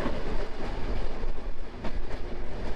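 A train from Dhaka to Kushtia, Bangladesh, rolls along its rails with a loud, steady rumble and rhythmic clacking of wheels, heard from inside the carriage.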